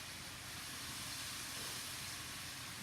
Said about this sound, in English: That sizzling sound is like music, isn't it?